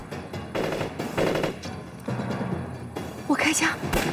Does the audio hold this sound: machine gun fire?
yes